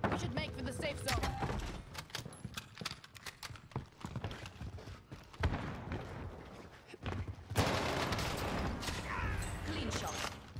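Welgun submachine gun fire in the Call of Duty Vanguard Warzone video game on Rebirth Island, rapid dense bursts mixed with footsteps and other game sounds, loud and close, with no talk.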